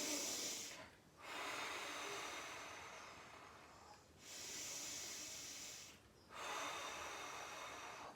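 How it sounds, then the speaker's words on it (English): Slow, deep belly breaths drawn in through the nose during a power yoga class, three long airy inhales and exhales separated by brief pauses, close and soft with no talking. "big inhale through the nose."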